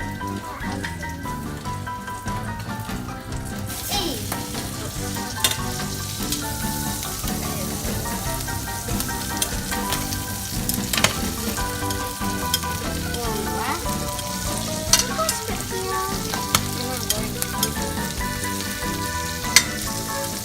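Butter sizzling and frying in a pot during a one-pot creamy salmon recipe cooked by kids in Singapore, a steady dense crackle with scattered sharp pops lasting throughout, close and fairly loud with no talk.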